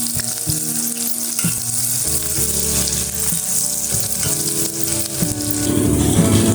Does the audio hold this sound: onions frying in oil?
yes